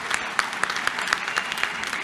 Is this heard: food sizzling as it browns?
no